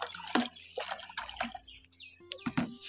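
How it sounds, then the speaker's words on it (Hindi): A potted rose plant being watered, with irregular splashes and drips of water hitting soil and leaves at close range, intermittent and uneven, with a few faint knocks. "अच्छी तरह वाटरिंग करनी है इसनों।"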